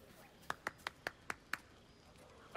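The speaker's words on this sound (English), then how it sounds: "Adoring applause?" A short burst of clapping in Baldur's Gate 3: about six crisp, evenly spaced claps, close and fairly quiet, followed by a sharp louder hit at the very end.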